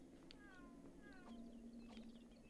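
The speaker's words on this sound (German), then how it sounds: "Diese Katze, ey." A cat meows several times, quiet and rising-falling, in the Lego Harry Potter video game over a low steady game background hum.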